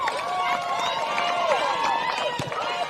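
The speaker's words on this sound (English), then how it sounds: "As the crowd goes nuts" A crowd at the 2024 Central Wheatbelt Netball Association grand final between Bencubbin and Koorda cheers and shouts in a steady, loud roar. Whistles cut through, and a commentator talks over the noise.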